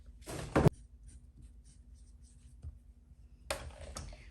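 A freezer bag being cut with scissors before vacuum sealing, two short bursts of scraping snips near the start and end with quiet handling between.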